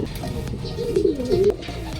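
Racing pigeons coo in a low, rolling murmur, with several overlapping throaty calls swelling and fading close by over a steady background bustle.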